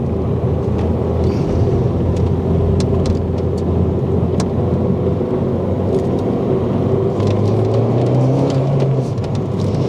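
Rebuilt Mini Cooper S driving on the road, heard from inside as a steady low engine rumble and road roar, with brief clicks and a rising engine note near the end, no talking.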